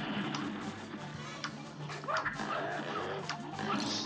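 A small cartoon dog yips and barks in the Cuphead: The Delicious Last Course boss fight, several short bright barks mixed into busy game music and effects.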